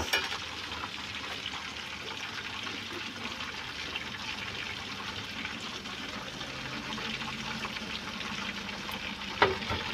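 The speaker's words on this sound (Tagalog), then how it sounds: "Nagpiprito ako. Ayan. Prito natin siya" Steady, dense sizzling of a whole chicken frying in hot oil, continuous and close throughout, with a brief clatter near the end.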